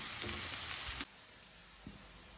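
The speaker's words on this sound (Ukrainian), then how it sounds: "Підмішуємо, щоб цибулька змішалася з грибочками." Onions and mushrooms frying in a pan give a steady, close sizzle that cuts off abruptly about halfway through, leaving a quiet hiss and one soft knock near the end.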